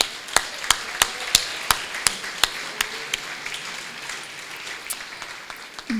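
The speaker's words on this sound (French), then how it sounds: "Oui, on peut l'applaudir." At a 2016 volunteers' evening in Sainte-Julienne, a small audience claps in a sparse, evenly spaced rhythm. The sharp hand claps are distinct and moderately close, then thin out and grow irregular toward the end.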